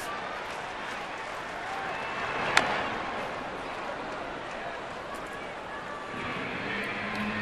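A sellout baseball crowd at a Milwaukee Brewers home game against the St. Louis Cardinals, a steady distant roar of cheering and clapping filling the whole stretch, with one brief sharp crack partway through.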